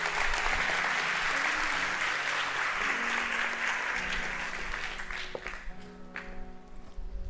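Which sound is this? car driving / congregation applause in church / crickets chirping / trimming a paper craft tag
congregation applause in church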